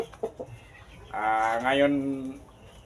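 A large Shamo rooster, about two years old, gives a single loud crow that rises and falls for about a second, preceded by a few short clucks and faint voices.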